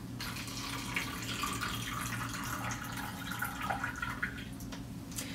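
Water draining from a kitchen sink after a water treatment test, a faint, steady trickling and gurgling wash heard alone and fairly quiet throughout.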